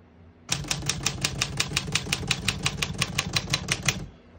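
Steady typing on a 1950 Smith-Corona Silent portable typewriter: about twenty crisp, close key strikes in a quick, even rhythm, heard on their own with no voices.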